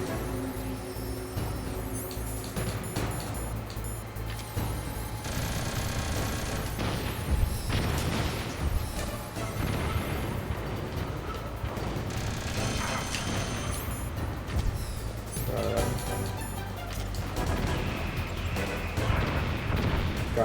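Enemy missile explosions boom and crash repeatedly in Metal Gear Solid, sitting within a constant, heavy rumble of battle noise and music throughout, with no clear talking.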